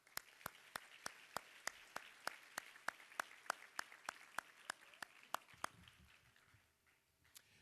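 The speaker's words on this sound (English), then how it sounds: "All of you deserve a big round of applause." Light, sparse applause at a Volunteer Florida and AmeriCorps 20th anniversary ceremony: a steady run of sharp, distinct handclaps from a small audience, ending with a few scattered claps and quiet room noise.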